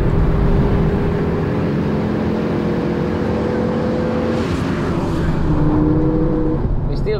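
A Ford Focus RS500 accelerates hard through the gears, its engine note rising in steady sweeps with a gearshift dip midway, loud and continuous, with a person talking over the drive.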